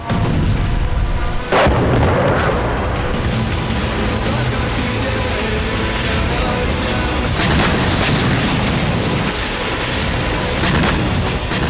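Artillery shelling and explosions in Ukrainian cities make a loud, dense, rumbling roar of blasts, with a few sharper booms standing out throughout.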